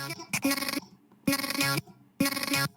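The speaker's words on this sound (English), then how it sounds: "This ensures that you get like that glitch effect that you're going for." Music plays in three abrupt chopped bursts separated by sudden silences, a stuttering cut-in, cut-out glitch effect made with volume automation, close and fairly loud.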